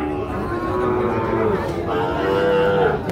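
A young Sahiwal bull calf at a rural cattle market gives drawn-out, wavering low calls close by, rising and falling over a few seconds amid the hum of the market crowd.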